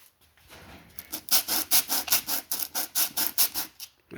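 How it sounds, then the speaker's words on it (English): A Briggs & Stratton carburetor part is rubbed back and forth by hand on a flat surface, giving a quick run of about a dozen even, rasping sanding strokes, close and clear, after a quiet start. "Find yourself a good flat surface and just start sanding it."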